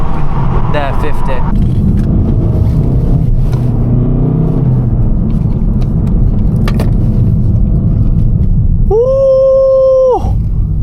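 A Volkswagen Golf GTD is driven fast on a road at night, with a loud steady engine and road rumble throughout and a brief tonal horn-like blare near the end. A person talks over the noise.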